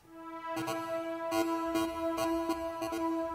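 Distorted synth pad from Reason's Synchronus, swept across the stereo field by modulation curves, holding a steady tonal drone broken by rhythmic bright bursts that pulse several times at a moderate level.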